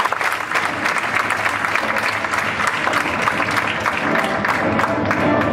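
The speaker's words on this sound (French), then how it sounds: "Je vous demande peut-être simplement de l'applaudir un peu." Steady applause from an audience at a cosmetics innovation competition award ceremony, honouring a winner; dense, even clapping fills the whole stretch at moderate level with no talk over it.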